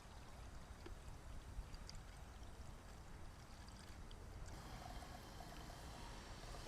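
Coke poured into a car radiator hose, a faint continuous liquid pouring and gurgling, steady and low under quiet background noise, with no talking.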